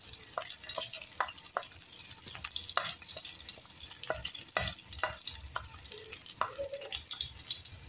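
Garlic sautéing in cooking oil in a home kitchen, giving a steady near sizzle broken by repeated scraping and clinking of a spoon against the pan, with no talking.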